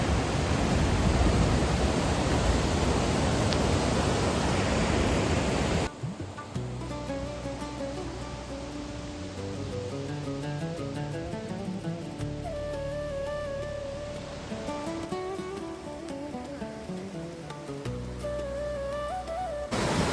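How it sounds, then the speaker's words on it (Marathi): White water of the Lidder river rushing near Pahalgam, a dense close roar for the first several seconds before tonal music takes over for the rest. "आपण खाली आलो आहे, पांढरं शुभ्र असं पाणी। ही रीडर नदी आहे"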